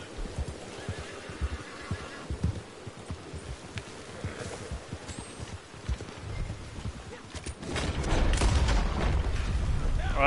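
Horse hooves clip-clopping and neighing in the video game Red Dead Online, with rhythmic hoofbeats under game noise, occasional gunfire-like bangs, and a louder rushing burst near the end.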